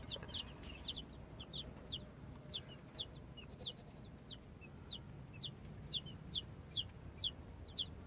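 Fluffy baby chicks peep in a farm setting, giving a steady series of thin, high cheeps about every half second over a faint, low background rumble.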